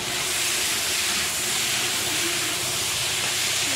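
Chopped tomato sizzles with spices in a pan of cooking ridge gourd, a steady, loud, even hiss filling the whole stretch with no voices.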